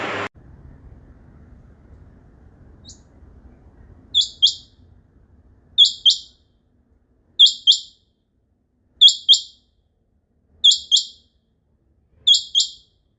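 Young Sindhi partridges offered for sale call in short paired chirps, repeated about every second and a half after a brief low rumble at the start, clear and fairly close with no talk.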